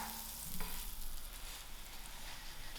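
A mushroom-stuffed roti fries in a pan with a steady, close hiss of sizzling oil throughout, and a faint clink near the start.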